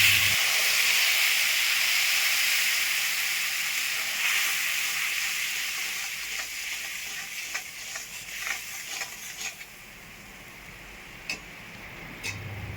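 Spice paste of cumin, coriander, chili powder and turmeric sizzles in hot oil after a cumin and bay leaf tempering, a steady bright hiss that gradually eases, with scattered clicks and scrapes of stirring toward the end.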